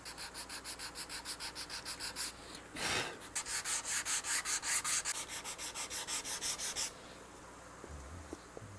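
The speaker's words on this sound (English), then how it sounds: "Now I've got an assortment of sanding blocks out over here and we're going to start at 220." Close, steady back-and-forth strokes of a 220-grit sanding block rubbing over a wooden guitar body, evenly paced and rhythmic, with a dull thump partway through.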